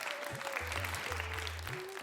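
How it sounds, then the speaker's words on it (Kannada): An audience claps steadily at an award ceremony, a dense, continuous wash of hands filling the hall from start to finish. "ತಮ್ಮೆಲ್ಲರ ಒಂದು ದೊಡ್ಡ ಚಪ್ಪಾಳೆ ಬರಲಿ ಅಂತ ಕೇಳ್ಕೊಳ್ತಾ ಇದ್ದೇವೆ."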